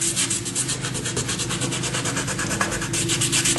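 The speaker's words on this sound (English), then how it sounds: "I'm going to put a strip across there. And I'm going to rub it down really good." A strip of aggressive masking tape gets rubbed down hard onto a scale model piece, a close, steady, rhythmic scrubbing friction with fast repeated strokes and no talking.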